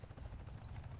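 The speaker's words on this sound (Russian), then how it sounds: "Мне, блядь, это вертолет напрягает" A helicopter in the video game Warface thrums with a low, steady rotor drone, close and continuous for a moment, no voices over it.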